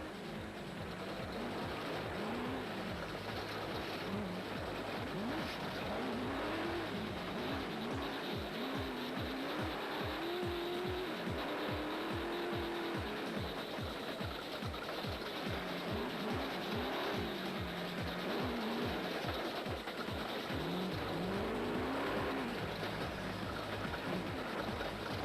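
Total Motorsport Porter rally vehicle racing in the Limpopo 400, a steady engine drone with rhythmic pulsing and rising and falling revs, continuous and fairly loud under heavy wind or road noise, with no talk.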